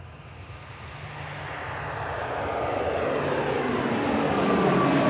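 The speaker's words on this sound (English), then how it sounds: "ATR 72-500" An ATR 72-500 turboprop airliner at Manchester Airport gives off a broad, steady engine roar that grows gradually louder and nearer over several seconds, with no voices.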